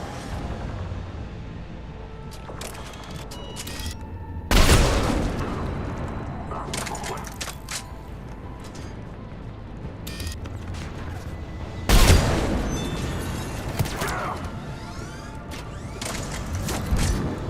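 Heavy cannon fire in Mass Effect 3's Omega battle: two big booming blasts several seconds apart rise over a steady rumble of distant gunfire and mechanical battle noise.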